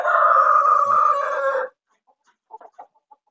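A rooster crows loudly and close, followed after a pause by a few soft, short clucks.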